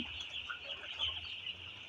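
A flock of broiler chickens on a farm clucks and cheeps continuously close by, a busy, steady chatter of clucks with no talking.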